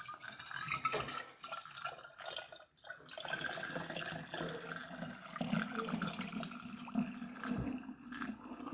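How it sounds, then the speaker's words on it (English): Celery juice poured from a blender container into a bottle, a steady trickling, splashing stream of liquid running for several seconds with small gurgles near the end. "So I'm gonna tip some here in the bottle."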